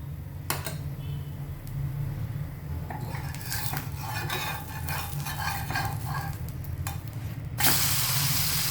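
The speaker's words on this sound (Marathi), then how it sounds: "त्याच्यावर मी तेल सोडणार आहे." Oil hissing and sizzling on a yellow moong dal uttapam in a hot pan after the lid comes off, a steady close crackle with spatula scrapes and clinks through the middle and a louder burst of sizzle near the end.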